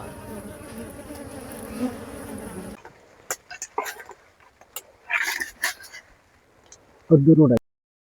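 Bees swarm and buzz around a wild honey nest, their insect hum thick and close at first, then broken by scattered bursts and handling noise, ending in one short loud buzz.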